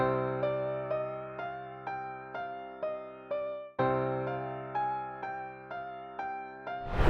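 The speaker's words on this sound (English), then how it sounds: "Next thing we did is we added like a piano." Upright piano keys from an analog bank play a steady, evenly spaced sequence of notes that ring and decay, repeating a short pattern twice at a moderate volume.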